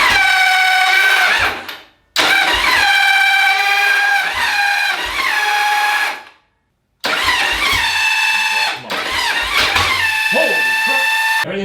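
An engine cranks and fires after carburetor work with the stock air filter refitted, in loud bursts of harsh revving separated by short silences.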